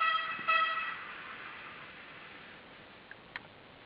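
A short, bright tooting horn from a model railcar controlled by an ESU ECoS command station sounds at the start, with a brief second blast, then fades to quiet with a couple of small clicks.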